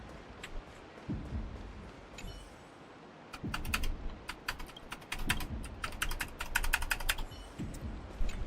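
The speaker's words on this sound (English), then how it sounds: "I didn't realize that my keyboard was loud." A computer keyboard is typed on loudly in fast clattering bursts, with a few soft low thumps and pauses in between.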